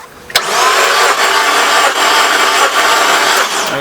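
A 1999 Mazda Miata engine cranks briefly, then catches and runs loud and close, a steady mid-pitched roar with slight rhythmic dips for several seconds.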